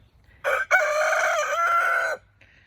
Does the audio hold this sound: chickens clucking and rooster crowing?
yes